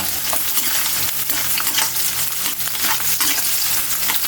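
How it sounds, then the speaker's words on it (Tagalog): Garlic sizzles steadily in hot oil in a pan while being stirred, a dense, continuous frying hiss with soft scraping of the stirring utensil and no talking. "ilagay na natin yung bawang natin"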